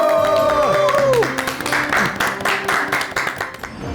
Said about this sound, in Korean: 큰 박수로 맞아와 주시기 바랍니다